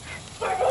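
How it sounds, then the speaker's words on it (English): A dog barks a couple of times at a moderate distance, short sharp yips rising out of a quiet outdoor background. "I have a dog over there somewhere that's like crazy barking."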